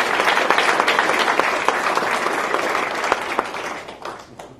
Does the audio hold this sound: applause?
yes